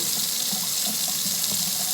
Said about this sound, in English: I'm gonna run hot water